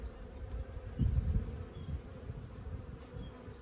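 Bees buzz softly in the background, a faint continuous drone with one nearer pass swelling briefly and then fading.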